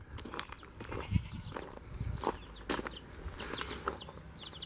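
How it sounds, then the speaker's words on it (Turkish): Small chicks kept at a new house in a farmyard with a dog, goats and sheep nearby, giving repeated high thin chirps through the clip among other animal calls and rustling, fairly close. "Civcivler."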